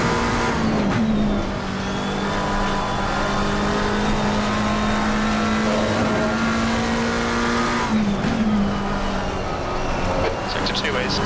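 McLaren 720S GT3 Evo race car in Assetto Corsa Competizione, its engine holding a loud, steady high drone with pitch shifts through gear changes and a brief tire squeal near the end.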